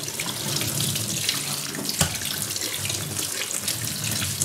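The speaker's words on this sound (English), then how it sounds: "So I wash them off first." Tap water runs steadily into a kitchen sink while chickpeas are rinsed, a close, continuous splashing stream with one brief knock midway.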